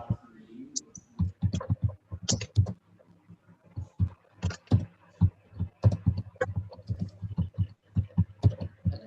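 Typing on a laptop keyboard, a fast irregular run of close clicking keystrokes continuing steadily, with no talk over it.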